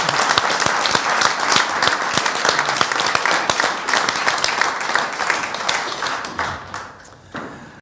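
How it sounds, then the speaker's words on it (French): Audience applause at a live talk event, dense and lively clapping with distinct sharp claps near the microphone, holding strong before tapering off toward the end. "Merci, on peut vous applaudir. Bravo."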